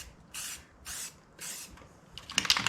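An aerosol rattle can spraying paint onto backhoe parts, with three separate hissing bursts about half a second each, close and fairly loud, followed by a short clattering rattle of the can.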